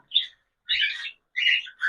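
Cockatiels kept in a cage for sale give three bright chirping calls, evenly spaced and fairly close, with short silences between them and no voices.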